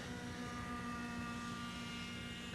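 A radio-controlled helicopter in forward flight gives a faint, steady whine with a constant rotor drone, heard from a distance without any break.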